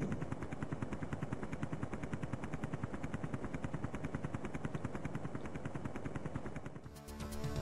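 Rapid missile and gunfire bursts from the Amiga helicopter combat game Zeewolf in a dense, evenly pulsing stream, loud and continuous, with a brief change near the end and no talking.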